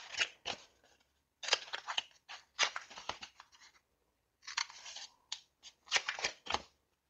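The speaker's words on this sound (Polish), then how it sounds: "Obcinam sobie narożniki po prostu, bo dzięki temu tutaj wszystko łatwiej i wygodniej się zagina" Scissors snipping the corners off paper for a photo album: bursts of quick crisp cuts with short pauses between, close and quiet, no voices.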